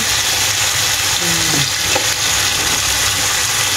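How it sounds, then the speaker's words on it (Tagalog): Barbecue skewers cooking in a frying pan in an apartment kitchen: loud, steady sizzling and frying close up throughout, with faint stirring sounds and no talk. "Barbecue na lang sa kawali."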